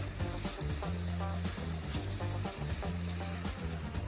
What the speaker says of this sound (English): I wanna cook the tomato paste in with my onions and spices until it deepens in color.